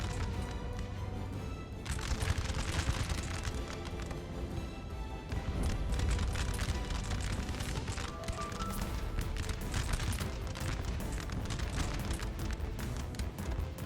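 Musket volleys from battle lines in the Napoleon Total War video game, a dense, sustained crackle of distant gunfire with booming bursts that rises and falls throughout.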